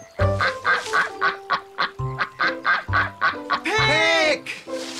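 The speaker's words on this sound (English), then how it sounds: "A clue like a quack." A cartoon duck quacks and honks in a quick run of loud, close, nasal calls, ending in a longer drawn-out squawk.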